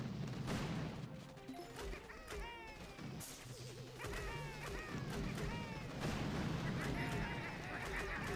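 Cannon and gunfire booms in the mobile strategy game Boom Beach, repeated shots and crashing impacts layered over game music and effects, with someone talking over the battle.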